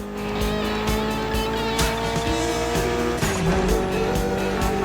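A Mitsubishi Evo driven in the racing game The Crew Motorfest, its engine note revving and shifting steadily, with tire squeal and engine harmonics rising and falling, close and loud.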